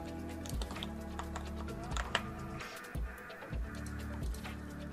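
Keys on a computer keyboard tap out text in short clusters over a steady low electrical hum, close and fairly quiet, with no talking.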